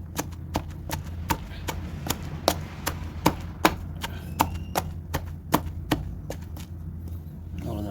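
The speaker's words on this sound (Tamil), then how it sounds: "ஸோ கருவேப்பிலை போட்டு இடிச்சிட்ருக்குறேன்." Curry leaves for pepper rasam are pounded with a pestle in a steady run of sharp, evenly spaced thuds over a low constant background hum, close and moderately quiet.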